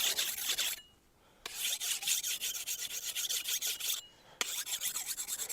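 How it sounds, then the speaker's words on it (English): A Tramontina bolo machete blade is rubbed with a sharpening stone in steady, rhythmic rasping strokes, close and moderately loud, broken by two short pauses and with no speech. "So with a stone, you're really just kind of honing that burr and getting some of those file cuts out."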